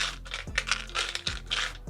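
Small hard divination runes clatter and click together as they are mixed by hand, a close rattling with a few sharper knocks.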